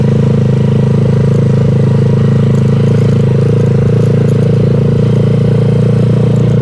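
A cafe racer motorcycle ridden off road on a village route, its engine droning loud and steady throughout at close range with a continuous low rumble, no talk over it.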